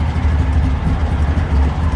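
A car engine runs steadily with a low rumble while pulling away in first gear from a railroad loading dock onto the street, continuous and close, with no talk.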